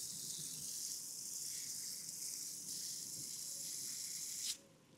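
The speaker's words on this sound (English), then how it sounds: "I'm just gonna put in a little bit of water around the root ball." A garden hose sprays water around the root ball of a newly planted Bloomerang Dark Purple lilac shrub, a steady close hiss that runs several seconds before cutting off abruptly.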